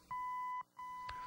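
A few short electronic beeps from a Blaupunkt Frankfort car stereo, a steady tone broken into two pulses with brief gaps, clear and close.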